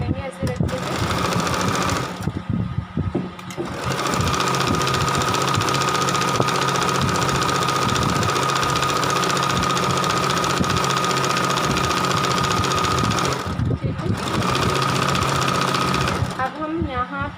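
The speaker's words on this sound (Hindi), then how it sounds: "अभी हमने यहाँ से स्टिच कर दिया, अब आपको भी हम स्टिच कर देंगे ऐसे रखते हुए।" Sewing machine stitching salwar cloth, running in long continuous loud bursts with a brief pause between them, while a person talks over it.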